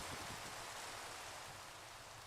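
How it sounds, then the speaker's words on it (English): Steady rain hisses through a storm in the Minecraft modpack ATM7 To The Sky, a faint, continuous broadband wash with no distinct drops standing out and no talking. "Gonna go ahead and sleep through this storm, get rid of this rain."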